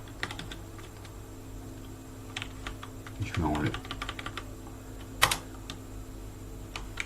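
Typing on a computer keyboard with a faulty F key that repeats, a run of scattered keystrokes with a brief cluster and one sharp louder tap, close by in a quiet room.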